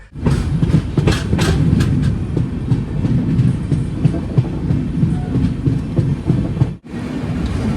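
A train on the Konkan route runs at speed while overtaking a passenger train, giving a loud continuous rumble with rhythmic clickety-clack of wheels, briefly dropping out near the end.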